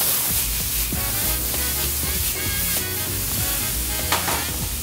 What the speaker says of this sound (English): Add our tomatoes right to that pan. Hear that sizzle?